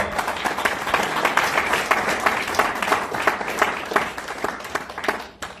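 Congregation applause during a church service, a fairly near burst of many hands clapping with sharp irregular claps that builds and then tapers off at the end.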